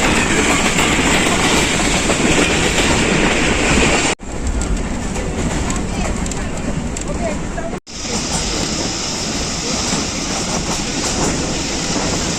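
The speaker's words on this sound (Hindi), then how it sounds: "ज़बरदस्त स्पीड में सिहाला स्टेशन क्रॉस किया है जाफर एक्सप्रेस ने" The Jaffar Express races past Sihala station at high speed, a loud continuous roar with rattling clickety-clack from the rails, broken by two sharp momentary dropouts.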